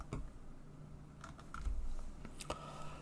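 Scattered keystrokes on a computer keyboard, a few soft clicks and taps spread unevenly across a quiet background, close and faint.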